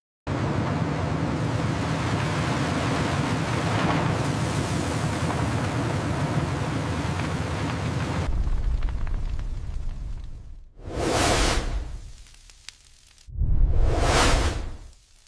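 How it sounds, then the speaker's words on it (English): A blast furnace roars with a dense, loud, continuous rushing noise for several seconds, then cuts away to two separate swelling whooshing bursts of fiery blast separated by near quiet. "Welcome to the blast furnace."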